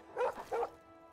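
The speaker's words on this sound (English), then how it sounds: "We have a dog called Jake." A dog in the video game Oblivion gives two short, close bow-wow barks in quick succession, standing alone with only a faint background hum.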